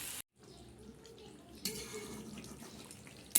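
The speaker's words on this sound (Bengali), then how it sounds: "একটু করে জল দিচ্ছি" Water poured into mutton being fried down with spices in a kadai, a faint, quiet wash of pouring and sizzling that swells after a brief silence, with a soft clink at the end.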